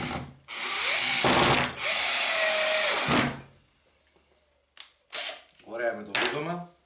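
Parkside PABS 20-Li D4 cordless drill driving screws, two long loud whirring bursts close up, then quieter pauses and short clicks with brief rattling sounds at the end.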